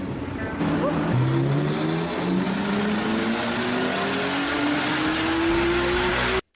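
A loud modified car engine revs up, its pitch climbing steadily in one long acceleration before cutting off abruptly.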